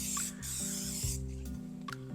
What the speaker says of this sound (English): Let's spray our casserole dish